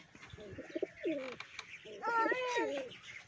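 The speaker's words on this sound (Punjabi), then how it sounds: "ਇਹ ਵੇਖੋ ਕਬੂਤਰ," Pigeons coo in a village building, soft repeated throaty calls close by, mixed with a few chirps and a faint creak.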